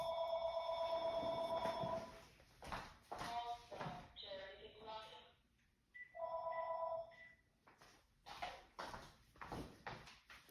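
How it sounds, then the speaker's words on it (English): A telephone rings indoors in a few bursts, interleaved with quieter room sounds and movement, fairly close but modest in level. "Definitely need that phone not to be ringing."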